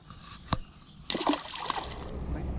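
A sharp splash as a bass is released back into a pond around the middle, followed by sloshing and dripping over a steady outdoor background.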